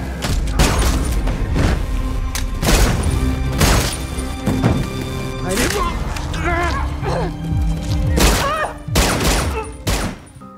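Rapid bursts of gunfire crack and boom repeatedly amid thuds and impacts, with voices talking over the action.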